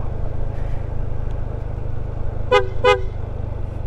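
Two short, sharp vehicle horn toots sound in quick succession over the steady rumble of a Honda ADV 160 motorcycle riding a steep road between Leyte and Siargao in the Philippines.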